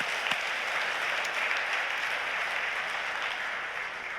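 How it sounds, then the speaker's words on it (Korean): A church congregation applauds during a Sunday sermon at a Daegu church, an even, sustained roar of many clapping hands, moderately distant, fading slightly at the end. "우리 하나님께 영광의 박수를 올려드리겠습니다."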